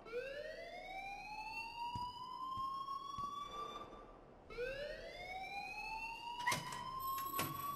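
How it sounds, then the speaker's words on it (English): In the video game Life is Strange, an alarm sounds as a rising electronic wail that repeats in two long sweeping cycles, steady and fairly loud, with a few sharp clicks and knocks in the background. "please turn off that alarm"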